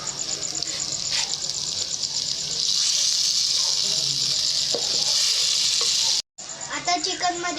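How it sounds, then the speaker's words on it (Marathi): Chicken is added a little at a time to hot gravy in a pot over a wood-fired stove, giving a loud, steady sizzle with occasional stirring knocks, then a brief cut and renewed frying. "आता हळूहळू चिकन घातलत राहायचं."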